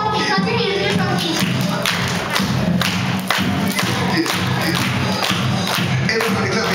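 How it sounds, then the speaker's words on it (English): An audience claps along with a live band, steady rhythmic hand claps and thumping beats under crowd noise and cheering, loud and close throughout. "Everybody clap your hands."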